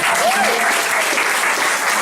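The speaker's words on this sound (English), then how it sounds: "Would you please give a round of applause for Cindy for organizing?" An audience at a coffee-break talk applauds, a dense, steady wash of many hands clapping throughout, fairly loud and continuous.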